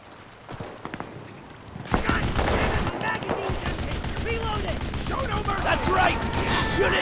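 Gunfire and artillery crash in a WWII Pacific beach invasion on Guadalcanal in Enlisted, a few sharp shots early, then dense continuous volleys and blasts, with soldiers shouting over the battle.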